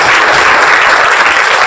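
A crowd at a public gathering breaks into loud, dense applause, many hands clapping continuously and close, filling the whole moment without any talking.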